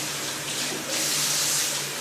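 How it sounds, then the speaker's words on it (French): A broken household faucet that cannot be turned off runs steadily, a loud, continuous hissing rush of water close by with no talking. "il y a beaucoup de bruit. C'est mon robinet."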